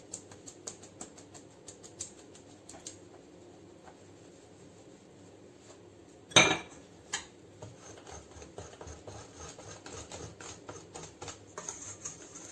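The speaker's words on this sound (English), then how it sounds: "now the last ingredient, flour, which we have to sift because of eventual lumps and stuff" Flour is sifted for a chocolate fondant batter: light, rapid ticking and pattering taps of a sieve repeat steadily and faintly, with one louder knock midway.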